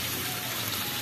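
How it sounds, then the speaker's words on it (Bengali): A small splash of water poured into a hot pan of turmeric and spices for a fish-head curry gives a steady, close, rushing hiss with no talking. "সামান্য একটু জল দিয়ে দিলাম, কেন পুড়ে যাবে তো।"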